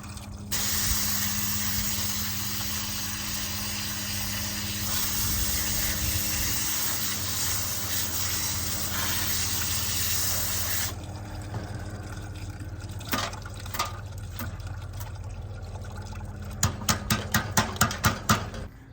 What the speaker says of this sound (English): I just kind of squeeze them and spray them. The hose really helps kind of loosen those up